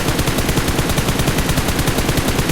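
A continuous, rapid stream of automatic gunfire in the mobile shooter PUBG Mobile, loud and close, with evenly spaced shots repeating quickly throughout and no talking over them.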